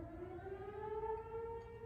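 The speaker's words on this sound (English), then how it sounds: "That is the lunch siren." A steady, droning town lunchtime siren wails in the distance in Thorsby, holding a slowly rising tone throughout.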